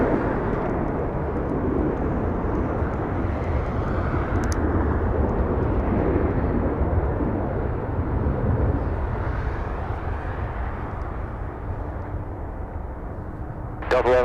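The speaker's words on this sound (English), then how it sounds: "we have a plane flying above us" A fixed-wing airliner roars low overhead at LAX, a loud broad jet rumble that holds for about fourteen seconds, with brief radio clicks near the start and end.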